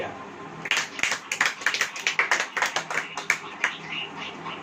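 A church congregation claps during a sermon, with a series of sharp, rhythmic hand claps coming in pulses, fairly close and moderately loud, beginning after a short pause.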